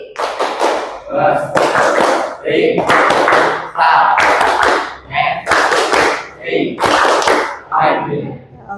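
A classroom of children performs the tepuk topologi clapping routine, bursts of rhythmic group clapping repeating in several sections, with chanted voices and speech between and under the claps.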